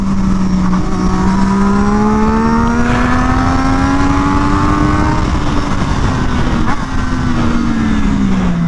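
A new race bike engine on its first ride roars loud and close, a steady high-revving drone that swells and eases slightly as the throttle changes, with continuous wind rush and no talk.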